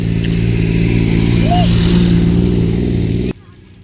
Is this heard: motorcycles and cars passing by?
yes